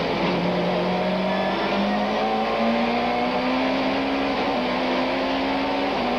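Mid-1990s Super Touring race cars, a BMW chasing a Ford Mondeo at Killarney circuit, engines droning loud and continuous with pitch climbing and dipping as they brake and accelerate together, no voices heard.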